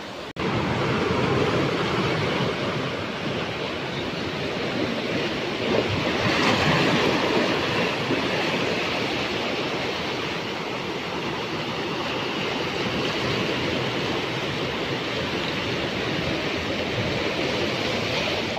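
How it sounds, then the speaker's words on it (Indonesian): Big ocean waves breaking on Nggela beach in Flores, a continuous loud roar of surf with steady rushing wash and no pauses. "Ombaknya gede banget, guys."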